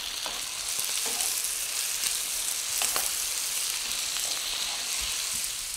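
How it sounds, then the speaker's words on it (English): Ground beef taco filling bubbles and sizzles in a skillet with sauce poured over, a dense steady hiss broken by small pops and stirring clicks, close and with no voices. "once it has come to a simmer and nicely coated the meat, it's all ready"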